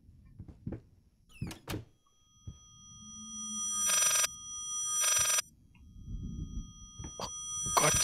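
A telephone in the horror video game Layers of Fear rings in two long loud bursts midway, between scattered thumps, creaks and a low drone, with no talking.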